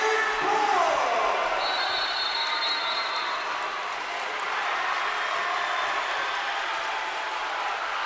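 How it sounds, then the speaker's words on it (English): Spectators at a boys' high school basketball game, Shelton at Columbia River, roar in a loud, steady wash of cheering that fills the gym for the full stretch without letting up. "Wow, listen to the crowd, Jerry."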